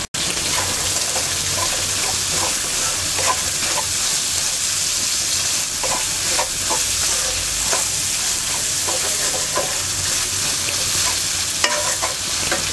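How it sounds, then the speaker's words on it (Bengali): Loitta and chepa dried fish with jackfruit seeds stir-fry loudly in a pan, a continuous sizzle broken by repeated scraping and stirring strokes throughout. "এবার আমরা কাঁঠালের বিচি দিয়ে 5 মিনিট কষিয়ে নেব"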